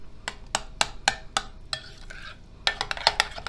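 Lettuce tarator dressed with a spoonful and a half of lemon juice is stirred with a spoon in a bowl, giving a run of crisp, wet scraping strokes. The strokes come in bursts with brief pauses and sound close by.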